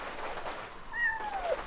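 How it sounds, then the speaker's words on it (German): A cat meows in the video game Yonder: The Cloud Catcher Chronicles, one rising then falling cry standing out clearly against a soft ambient game soundscape. "Da war eine Katze."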